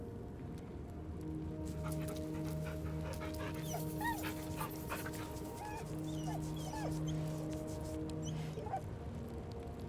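A dog in Baldur's Gate 3 whimpers in short, high, wavering whines that recur in clusters over a soft background ambience, fairly close and moderately quiet.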